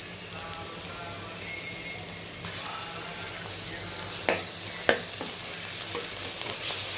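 Ginger garlic paste hits a pan of frying onions, mustard seeds and cumin for chicken curry. A soft sizzle suddenly swells into a loud, steady hiss with a few sharp spatters, heard up close.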